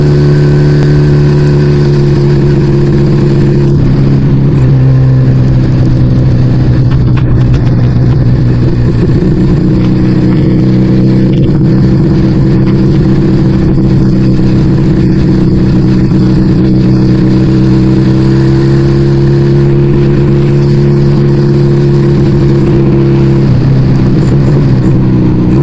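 Yamaha Vega ZR motorcycle, two-stroke single-cylinder engine, revving loud and close, with a steady buzzing idle that climbs into sustained throttle blips, continuous throughout.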